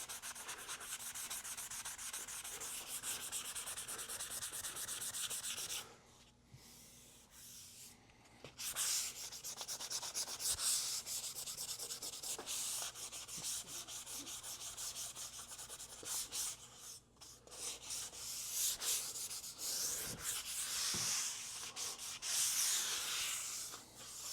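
Hand sanding a Bondo-repaired wooden surface: steady rasping strokes of sandpaper rubbing back and forth, close and fairly quiet, with a few brief pauses, no talk.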